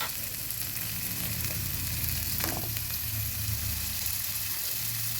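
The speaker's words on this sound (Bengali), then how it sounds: "পেঁয়াজ আদা ভেজে নিচ্ছি" Onion, ginger and carrots frying in a pan for an oats khichdi, a loud continuous sizzle close by with a brief stirring clatter partway through.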